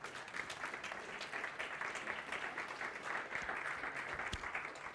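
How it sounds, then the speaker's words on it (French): A church congregation applauds a group of leaders, a steady, even wash of clapping that sounds faint and distant, continuing unbroken for several seconds with no talk over it. "on peut peut-être les applaudir"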